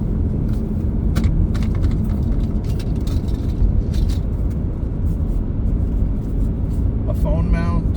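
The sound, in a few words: car interior while driving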